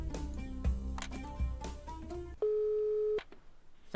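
Steady electronic telephone call tone in the geopolitical strategy video game Rogue State, a single sustained beep lasting under a second that stands out clearly after a stretch of background game music.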